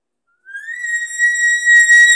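A human caller imitates an elk bugle, giving one loud, close, high whistling tone that slides upward and then holds, strong and clean against silence.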